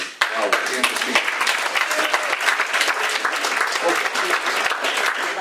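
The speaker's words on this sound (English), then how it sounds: "I want to applaud you" An audience at a city mayor's public talk breaks into sustained applause, dense steady clapping filling the whole stretch with no break.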